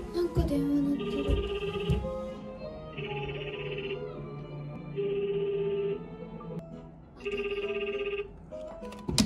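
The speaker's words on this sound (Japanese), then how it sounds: "え、なんか電話鳴ってる。" A telephone rings in bursts of trilling bell tones with short pauses between, fairly loud in a room amid soft movement and faint background voices, part of an escape-room game.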